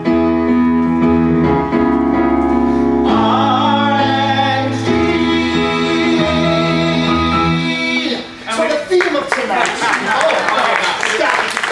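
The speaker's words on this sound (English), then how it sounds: "We've come up with a little jingle, and it sounds like this." A short sung jingle performed live at an evening show, with sustained harmonic tones over steady low notes for about eight seconds, then giving way to a burst of broadband noise like clapping or cheering.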